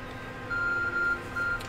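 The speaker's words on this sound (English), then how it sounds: "Our phone is beeping." Short electronic phone beeps in Pokémon Legends: Arceus, two steady tones in a row over a low background hum.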